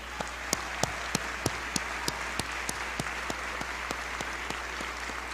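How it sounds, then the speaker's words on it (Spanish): A graduation audience applauds the parents. Sustained clapping from a crowd fills the clip, with one nearby pair of hands striking in a loud, regular beat above the rest. "Un aplauso para ustedes, papás y mamás, por favor"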